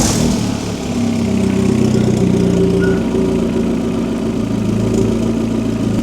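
A Vauxhall Astra VXR fitted with a 3 inch turbo-back exhaust idles with a steady, close, low engine rumble and slight variations in pitch for several seconds, with no talking.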